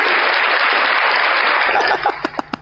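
A burst of applause plays on cue for a pastor during a stage debate show. It is loud, dense and continuous for about two seconds, then cuts off abruptly, leaving a few sharp clicks and short sounds.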